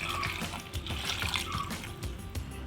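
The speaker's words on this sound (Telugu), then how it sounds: "ఇప్పుడు ఇందులోకి వాటర్ వేసుకుంటున్నాను" Water pours into a pot holding chopped tomatoes with turmeric, salt and chili powder for dal: a steady splashing, gurgling stream close by with bright watery spatters, continuous for the whole stretch.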